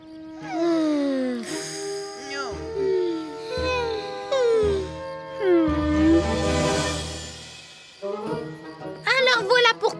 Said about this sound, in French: Nos petits chiens n'ont pas l'air dans leur assiette.